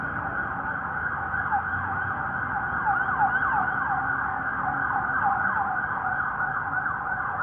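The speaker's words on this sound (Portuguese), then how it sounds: "a viatura vai passar ali, ó" A passing police car siren wails continuously, its steady rising and falling tone holding fairly loud against faint road noise, with no one speaking.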